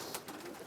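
A racing pigeon hen held in the hand gives a brief, soft, low cooing sound.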